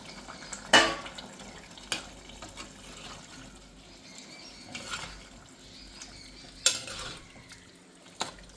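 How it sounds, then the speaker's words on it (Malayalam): Quiet simmering of tripe in masala with occasional sharp clanks of a spoon against a pot, a few scattered scraping stirs. "ഇനി അതിലേക്ക് നേരത്തെ ഊറ്റി വെച്ച ബോട്ടി ചേർത്ത് കൊടുക്കുകയാണ്"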